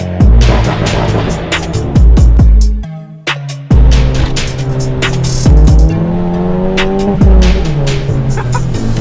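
A straight-piped Stage 2 MK7 Golf GTI revs loudly and close, its exhaust barking through sharp throttle blips and gear changes, with a short crackling lull in the middle before it pulls hard again.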